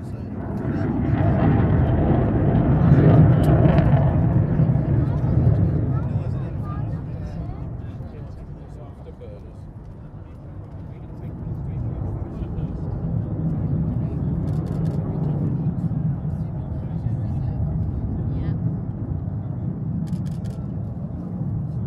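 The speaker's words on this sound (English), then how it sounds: "2 F-15s from RAF Lakenheath, flying in formation with 2 Spitfires." Two F-15 jets fly in formation with two Spitfires at an air show, a broad low engine rumble swelling as they pass, fading, then rising again, with a voice talking over it.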